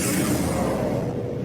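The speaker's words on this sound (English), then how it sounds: "the whole ability together using some Daiko drums, sub-stingers, whooshes, and metal impacts sounds like this" Warframe's Styanax rally ability effect, built from taiko drums, sub stingers, whooshes and metal impacts, hits as one brief, loud, heavy burst that rumbles and then fades.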